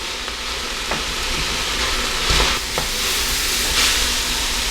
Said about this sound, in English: We're going to let this fry for about 3 to 5 minutes, stirring occasionally.